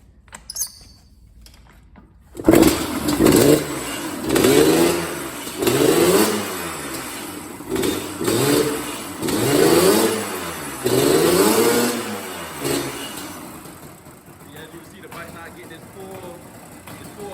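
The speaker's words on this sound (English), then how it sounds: "one of the things I'm just gonna do real quick is just start it up so y'all can see how the bike sound before I even get started on the bike" A 1986 Yamaha Banshee engine cranks to life and revs up and down in repeated rising and falling pulses before easing toward a lower idle, loud and close, with a voice talking over it.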